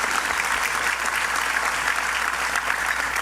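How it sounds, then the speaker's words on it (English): A large audience applauds at a public event unveiling the new Pennsylvania Station-Farley Complex, with steady, dense clapping that stays loud and even throughout. "Let's give him a big round of applause and thank him for everything he does."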